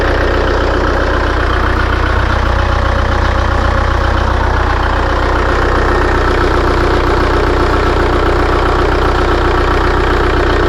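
A diesel engine fitted with an upgraded 12 mm rotor head and 8-hole nozzles idles close by with a steady, even rumble and a faint rhythmic knock throughout.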